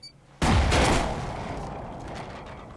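A C4 charge detonates in the survival game Rust: one sudden, loud blast hits after a brief quiet lead-in, then a long rumbling decay fades over the next couple of seconds.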